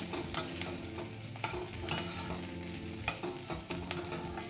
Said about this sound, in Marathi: एक ते दीड मिनिट परतून घ्यायचं गॅस बारीक ठेवायचं